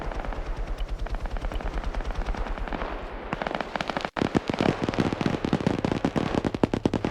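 Rapid bursts of automatic gunfire during helicopter combat in a video game, a continuous crackling rattle of close shots, briefly cut near the middle and then resuming heavier and denser.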